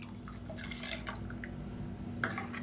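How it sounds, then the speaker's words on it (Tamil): Water used to rinse a mixer jar is poured into a kadai of tomato chutney, a short liquid splashing and dripping over steady background noise. "இப்போ மிக்ஸி அலசிட்டு இந்த தண்ணியை சேர்த்துக்கலாம்."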